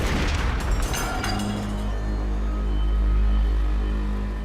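Submarine deck guns firing at small coastal luggers, a loud continuous deep boom and rumble that swells and sustains, with sharp bursts at the start.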